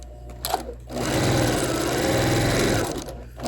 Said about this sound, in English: this is sort of like a stay stitch. I'm just basting it.